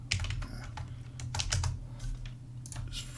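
Rapid irregular clicking of keys on a computer keyboard at a day-trading desk, close and steady, with brief faster bursts over a low constant hum.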